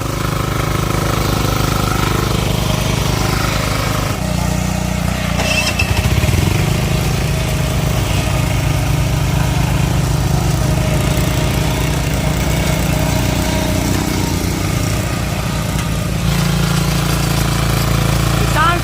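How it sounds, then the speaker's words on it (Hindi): A diesel-engined power weeder churns through dry, long-unworked horticultural soil with a loud, steady, rough chugging drone that continues throughout, close up, with only slight shifts in load. "डीजल इंजन की ताकत देखिए दोस्तों"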